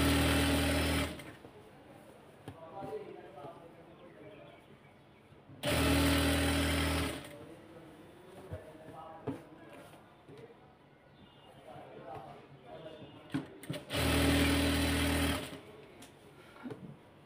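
Sewing machine stitching along the edge of an elastic waistband on pyjamas, in three loud bursts of rapid mechanical whirring, each a second or two long, separated by quieter stretches of handling noise and someone talking.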